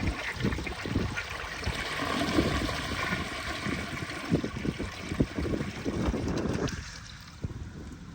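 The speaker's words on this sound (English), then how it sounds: "I am gonna do 1 flush of the pink washcloth" A 1963 Standard Compton toilet flushes a pink washcloth with a steady rushing, gurgling water surge that lasts several seconds and tapers off near the end.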